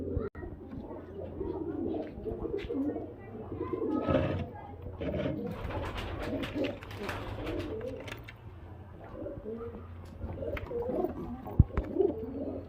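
A male Madrasi high-flyer pigeon coos repeatedly in a loft, soft low throaty calls with other pigeons murmuring nearby, and faint background noise throughout.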